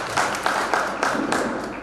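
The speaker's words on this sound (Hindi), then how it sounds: "तो एक बार सभी कवियों के लिए तालियां से सम्मान मेरे तरफ से।" Brief burst of audience applause for the poets at a Hindi poetry gathering, steady dense clapping with a few louder claps, fairly close and continuous for under two seconds.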